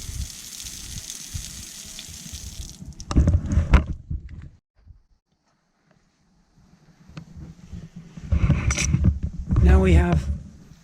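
Water rushes out of the spray port hose of a 2020 Coachmen Beyond 22C RV in a steady hissing spray that stops partway through. A person then talks over low background noise.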